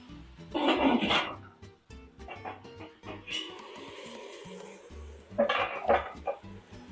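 Metal cookware clatters in a home kitchen as a pot lid is set down and closed over carrots and onions sautéing in oil, with several sharp clanks and rattles, a brief quieter stretch, then another burst of clattering.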